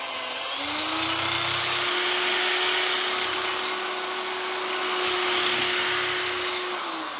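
A power tool wrapped in rolled sandpaper spins inside intersecting holes of a Dart SHP small-block Chevy engine block, giving a continuous high, whining drone with a steady tone and constant loudness throughout.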